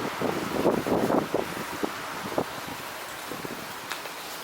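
Strong outdoor wind buffets an exposed microphone with loud, rumbling gusts that swell and fade over several seconds, settling into a steadier rush with occasional sharper puffs.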